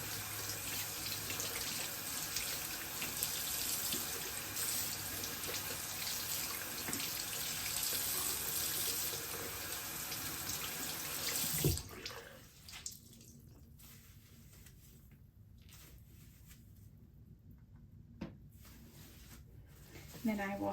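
A delicate blouse rinsed in cold water under a running tap, a steady full rush of water for about twelve seconds that then cuts off, leaving faint drips and handling noises.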